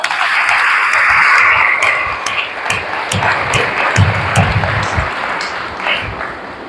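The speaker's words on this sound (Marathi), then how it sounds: "म्हणून या मुलांच्या नावाने सगळ्यांनी टाळ्या वाजवायच्या" An audience at a Kadsiddheshwar Maharaj birth-anniversary discourse gathering claps for the children, a dense, sustained wash of applause close by, swelling and thinning slightly over several seconds without speech.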